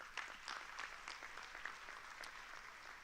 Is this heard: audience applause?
yes